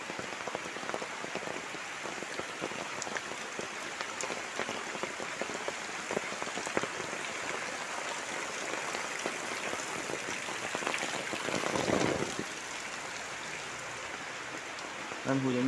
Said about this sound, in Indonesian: Dan hujannya semakin deras sobat di sini.